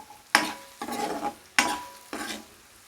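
Ingredients for a potato and meal maker curry fry lightly in a pan as a utensil stirs in four distinct scraping strokes, each with a brief sizzling swish, fairly quiet and without voices.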